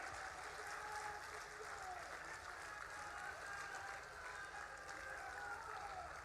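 Crowd at a cement plant groundbreaking event claps hands in a continuous, fairly distant wash of applause that stays steady for about six seconds, with faint voices mixed in.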